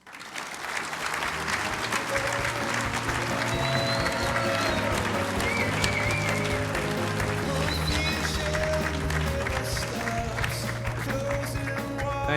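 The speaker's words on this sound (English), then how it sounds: "Please, a thunderous round of applause for Scott Kirby and Brian Summers." A main-stage audience at an airline industry expo applauds for Scott Kirby and Brian Summers, a dense, sustained roar of clapping with some cheering that holds loud and steady throughout, with music playing underneath.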